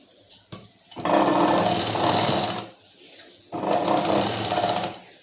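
A sewing machine stitches a shoulder seam on a one-piece garment in two loud close bursts of rapid running stitches, separated by a short quiet pause, with someone speaking briefly between the runs.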